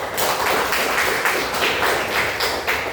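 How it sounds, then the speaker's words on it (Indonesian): Classroom of students clapping for a classmate, a close, lively burst of hand claps with an uneven pulsing rhythm across a few seconds. "Tepuk tangan untuk Alia"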